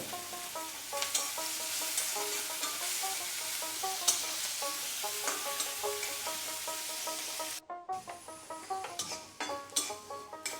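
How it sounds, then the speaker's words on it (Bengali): Onions frying with salt in a pan, a steady sizzle with repeated stirring scrapes throughout, close and fairly loud, briefly dropping out near the end before the stirring resumes. "তারপর আমরা এটাকে ভালোভাবে ভেজে নেব। এতে আমরা স্বাদ অনুসারে লবণ দিয়ে নেব।"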